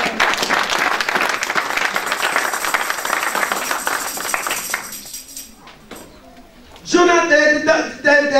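A church congregation applauding, dense continuous clapping that fills the room loudly for about five seconds before thinning out, followed by a voice speaking over quieter background.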